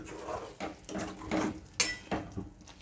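A spoon scrapes and clinks against a pan while stirring whole-onion bhaji curry, a series of irregular metallic scrapes and taps at close range with no talk.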